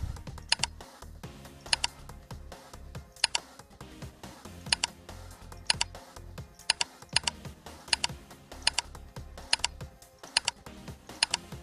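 Keyboard and mouse clicks while playing the game Lost Ark: crisp, regular clicks and key taps repeat roughly every second over a soft, busy game soundtrack, close and clear.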